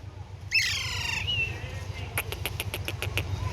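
Pakistani Alexandrine parakeet chicks give a burst of harsh squawks, then a quick run of sharp repeated chirps, close and loud over a steady low hum.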